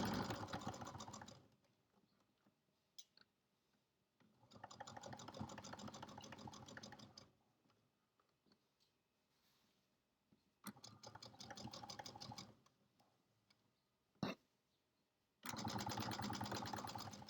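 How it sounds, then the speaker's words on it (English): A sewing machine stitches a 1/4 inch seam on pajama fabric, running in three or four steady buzzing bursts of a few seconds each, separated by quiet pauses with faint clicks. "I put my needle in my fabric, and then I'm going to sew following that 1/4 inch"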